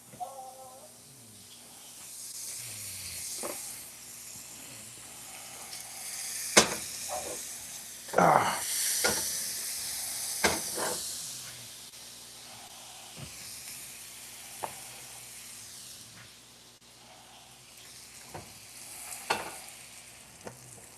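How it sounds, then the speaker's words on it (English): Butter melting and sizzling in a pan for grilled cheese, a quiet frying hiss with scattered clinks and knocks, someone speaking now and then over it. "I'm gonna drop our butter in there"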